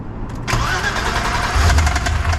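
A BMW M20 engine with a blown motor cranks and catches after a brief quiet moment, then settles into a loud, rough idle close by. Nobody talks.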